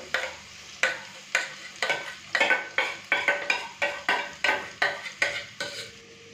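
Beaten sour yogurt going into frying spices over a low flame for a doi katla fish curry, stirred with about a dozen sharp, regular scraping strokes of a spoon against the pan, close and clear with no talk.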